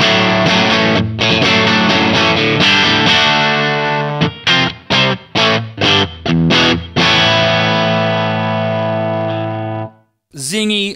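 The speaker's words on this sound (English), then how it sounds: "These are the 60's Custom Telecaster pickups, and they're just ace." Blues on an electric Telecaster-style guitar fitted with Kinman 60's Custom Tele zero-hum pickups, played through a BDR pedal into a JTM45 amp: sustained overdriven chords, then a run of choppy staccato stabs, ending abruptly before a short final burst.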